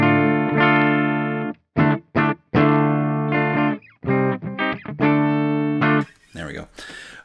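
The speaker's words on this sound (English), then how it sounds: "Clean tone, sounds like a guitar." A clean electric guitar played through a Coffee Shop Pedals Cortado reverb pedal plays a short run of sustained, ringing notes with brief gaps between them, ending in a burst of scratchy noise.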